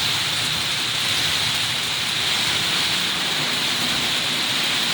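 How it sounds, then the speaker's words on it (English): Rain drumming on a conservatory roof on a wet day in Worthing, a loud, dense and unbroken hiss of drops striking the glazing close overhead, steady throughout with no speech. "Love the conservatory in the rain."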